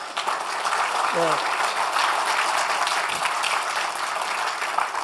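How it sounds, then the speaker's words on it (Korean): An audience at a political forum applauds to welcome Professor Oh Seung-yong, a political scientist, with broad, sustained clapping throughout. Someone briefly speaks a word over it. "우리 오승용 교수에게 큰 박수 부탁드립니다."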